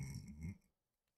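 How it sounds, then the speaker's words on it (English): A single close, soft burp from a man, a short low gurgle lasting about half a second, then quiet. "Burped again, by the way."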